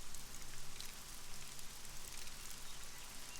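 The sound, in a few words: rain falling in a hunting video game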